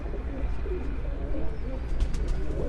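Pigeons cooing on a rooftop in Gujrat, Pakistan, soft repeated low coos set against steady outdoor background noise with faint chirps.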